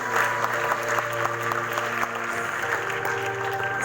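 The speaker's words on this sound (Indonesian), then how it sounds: "Beri aplaus dong buat member-member kita semua" Audience at a community gathering applauding for its members, a sustained burst of many hands clapping, fairly close and steady, with a bit of crowd murmur under it.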